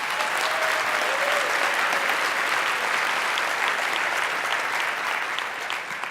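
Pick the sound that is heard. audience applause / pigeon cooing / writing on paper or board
audience applause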